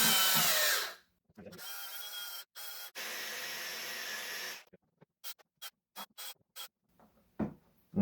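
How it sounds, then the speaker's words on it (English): A power tool shaves down the bottom edge of a wagon bumper being modified to fit a sedan rear quarter on a widebody WRX, grinding steadily in two long passes, then breaking into short, clipped bursts and taps. "On this bottom portion here, I just need to shave off the ever slightest amount."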